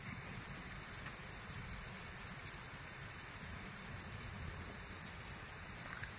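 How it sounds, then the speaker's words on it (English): Rain falls steadily outdoors, a soft continuous hiss and patter with a few faint individual drops, heard from a distance without any voices. "the rain is not raining down, it's like slanting to the right a little bit"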